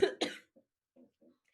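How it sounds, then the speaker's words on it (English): Two quick close coughs from one person, followed by a few faint soft throat sounds in an otherwise quiet room. "Sorry, having a little of a cough attack."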